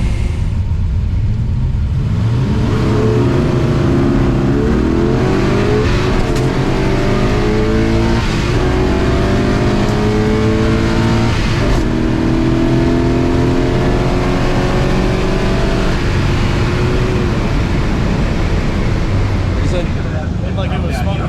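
A 1976 Chevrolet Vega drag car makes a quarter-mile run at an NMCA event at US 131 Motorsports Park; a loud engine roars and climbs steadily in pitch through the gears, with crowd and announcer talk over it.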